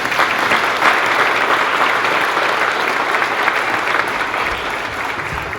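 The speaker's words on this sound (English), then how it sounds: "you deserve a round of applause" A community veterans' tribute audience gives loud, continuous applause, a dense wash of many hands clapping that holds steady for several seconds with no speech.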